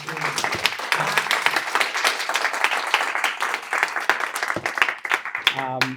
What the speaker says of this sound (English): let's give some loud applause